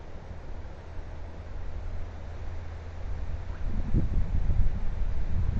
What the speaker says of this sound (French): Ça serait bien que le vent il se calme un petit peu là